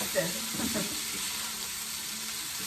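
Peas and corn warm in a frying pan with a steady, gentle sizzle and hiss close by, with a brief burst of stirring near the start and no speech.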